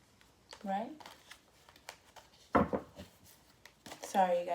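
Tarot cards shuffled by hand in a long, irregular run of soft riffles and slaps at close range, broken up by a woman's speech.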